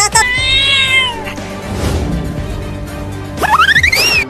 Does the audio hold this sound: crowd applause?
no